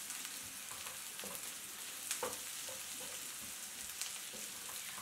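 Chunks of boiled potato fry in hot oil in a pan for a spiced potato and chickpea curry, a steady close sizzle with occasional stirring scrapes, no talking.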